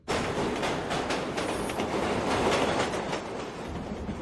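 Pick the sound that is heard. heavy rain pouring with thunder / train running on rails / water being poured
train running on rails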